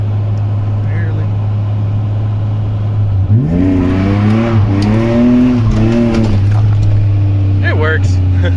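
A BMW E36 Compact with an M52B28 straight-six idles with a steady low hum, then revs up in a rising, wavering climb that holds and falls back to idle. Voices come through faintly near the end.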